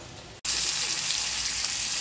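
Boiled ivy gourd frying in a little oil, a steady broadband sizzle that starts abruptly after a brief cut and holds loud and close throughout.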